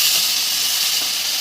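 Broth poured into a hot pan of fried fish and pumpkin, bursting into a loud, close, continuous hiss of sizzling and steam that holds steady without a pause.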